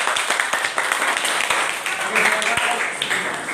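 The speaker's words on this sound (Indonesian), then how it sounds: "Tepuk tangan untuk kelompok satu." An audience in a teacher-training class applauds the first group after its presentation, brisk clapping running throughout while voices talk over it.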